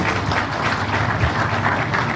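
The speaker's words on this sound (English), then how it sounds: "Another round of applause for him." An audience at a business forum in Kwahu gives a round of applause, a continuous dense patter of many hands clapping, fairly loud and steady, with no voices standing out.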